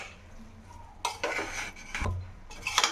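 Egg biryani gravy being stirred in a pan after salt is added, with a few distinct scrapes and clinks of a spoon against metal over a quiet background.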